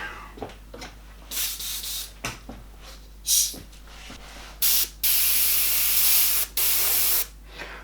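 An airbrush sprays white paint in repeated bursts, some short and some held for over a second, with a close, steady hiss and quiet pauses in between.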